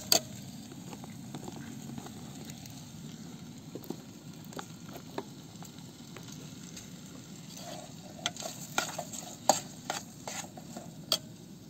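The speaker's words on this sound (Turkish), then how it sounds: "Soğanla patatesi aynı anda kavuruyorum." Onion and potato pieces sautéing together in a pan over a gas burner inside a camper van kitchen, giving a steady low sizzle with scattered clicks and small pops from stirring, fairly quiet and close, with no talking.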